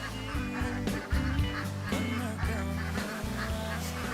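Ducks in a duck pen quack loudly and repeatedly close by, overlapping honking calls that keep going throughout with a busy, uneven rhythm.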